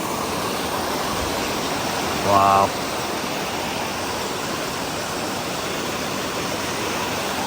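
Flood water roars steadily beneath a storm-damaged road, a dense, continuous rushing wash, with one brief spoken exclamation partway through.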